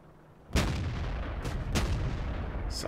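A loud, heavy tank gun blast in the World of Tanks video game booms after a short quiet start, its long rumbling echo filling the rest of the moment, with faint further cracks and no talking.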